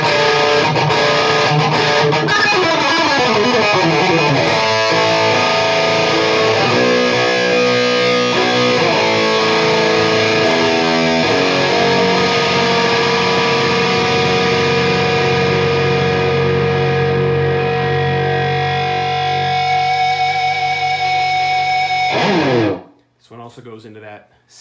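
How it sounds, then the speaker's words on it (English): An electric guitar plays through a high-gain distortion pedal with treble turned up, sustained saturated chords and notes ringing loud and thick for over twenty seconds before cutting off abruptly. "into that singy distortion thing."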